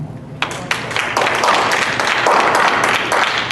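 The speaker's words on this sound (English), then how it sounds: "Anybody want to take by applause?" Applause from the audience at a school board meeting, a short burst of fairly loud clapping that runs steadily from just under half a second to the end.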